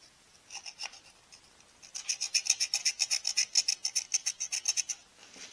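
Rust is scraped from the cylinder sleeve of an Allis Chalmers WD45 tractor engine being rebuilt, a quiet, close rhythmic rasping that builds into a steady run of repeated strokes.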